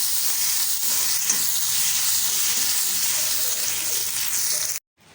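Curry leaves and grated ginger fry in a tempering for curd rice, giving a loud, continuous close sizzle that cuts off abruptly just before the end.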